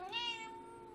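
A single cat meow, close and clear, rises then eases into a long falling tone that lasts about a second, with no voices.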